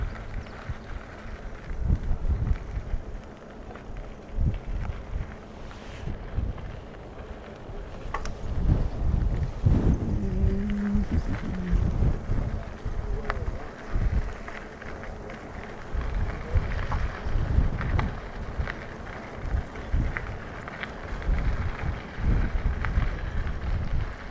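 Coastal wind buffets the microphone during an e-bike ride along a bike path at Wilder Ranch State Park, Santa Cruz, California, a continuous loud rumbling roar with gusty swells throughout.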